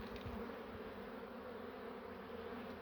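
Honey bees buzz in a steady, dense drone from an open beehive in spring, a continuous close hum with no pauses or voices.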